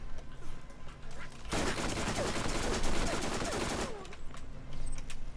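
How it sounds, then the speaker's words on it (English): Machine gun in Borderlands firing one long sustained burst of rapid, loud shots lasting a couple of seconds, with quieter scattered gunfire before and after. "Yeah, I like this machine gun."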